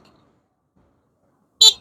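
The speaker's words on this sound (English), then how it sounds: "Give him a honk." A short horn honk from an EKX X21 Max electric dirt bike, a single bright burst near the end after near silence, fairly loud and close.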